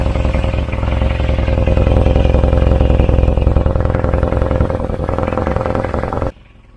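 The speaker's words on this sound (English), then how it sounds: "We've got a clamp on, but the exhaust, the cat is blowing." A Volvo 940 Turbo idles loudly and close by with a blowing catalytic converter, giving a rough, pulsing, rattly exhaust note that runs steadily and then cuts off abruptly near the end.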